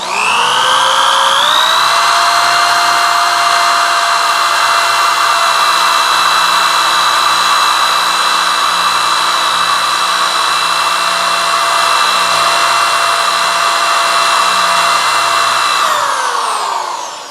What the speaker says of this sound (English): Then you want to drill straight up and down.